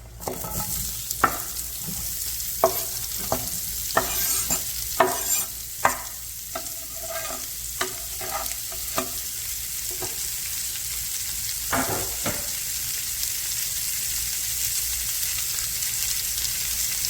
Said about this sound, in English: Saute them onions and get all that flavor up out of it.